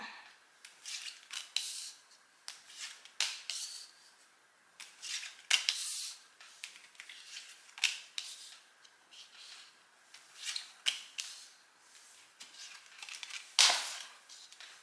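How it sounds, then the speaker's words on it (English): Tarot cards are laid out by hand, with repeated soft swishes and slides of cards against each other and the table, heard close and fairly quiet in irregular bursts. "let's lay the cards out."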